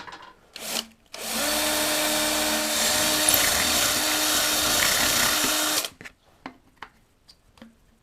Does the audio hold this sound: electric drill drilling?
yes